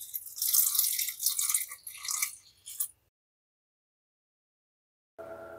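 Water poured into a pot of Korean rice cakes with cheese powder for instant tteokbokki, a bright splashing pour for about three seconds, then silence before a brief low rumble at the end.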